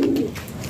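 A single soft, low pigeon coo, close by and brief, with no other sounds around it.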